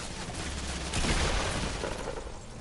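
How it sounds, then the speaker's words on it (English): Rapid gunfire from a compact SMG in the Fortnite battle royale game, a dense continuous burst of shots with a louder surge in the middle, heard alone without talk. "that guy spammed a compact SMG"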